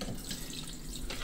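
Running tap water splashing steadily into a sink, close and continuous, with brief brighter splashes as something is rinsed under the stream.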